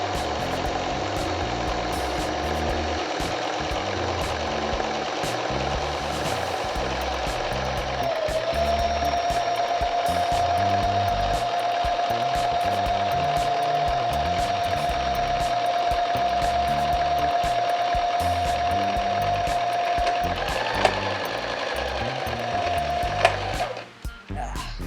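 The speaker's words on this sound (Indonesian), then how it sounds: "Kita turunin ke bawah, terus kita mulai jahit." Electric sewing machine stitching the seam of a skirt, a steady continuous motor whir with rapid needle clatter running for most of the stretch, a brief pause and reverse near the end, close and loud.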